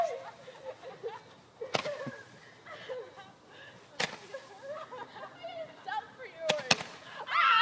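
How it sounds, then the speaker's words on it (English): Roman candle fireworks fired back and forth between people at close range, with sharp repeated bangs and pops over excited voices and shouting. "I want another Roman candle fight."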